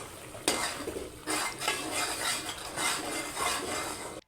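Spices and oil are stirred in a pan for a potato and egg breakfast dish. A spoon scrapes and clinks against the metal in several loud bursts over a soft frying hiss, with a brief pause between strokes.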